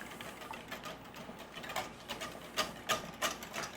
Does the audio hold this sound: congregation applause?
no